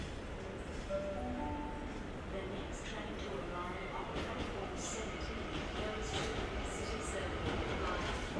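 A Sydney train pulls into a platform at Central Station with a steady rumbling roll, faint squeals and brake hiss, while a voice talks over the station din.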